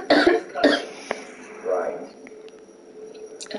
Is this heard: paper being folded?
no